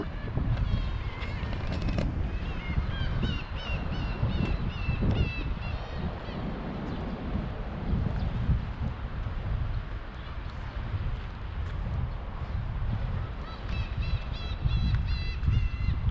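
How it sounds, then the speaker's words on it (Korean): Repeated seagull calls ring out loudly at Sorae harbor by its fish market in South Korea, over a busy outdoor background with low rumble and people talking. "갈매기 소리가 요란하네"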